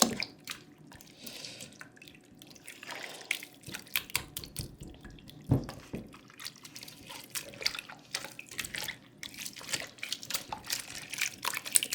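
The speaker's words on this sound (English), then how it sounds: "what I'm going to do is I'm going to pour into a container" Liquid from a blender is poured into a container, giving quiet, intermittent trickling and splashing with small drips and pauses in a still room, with no talking.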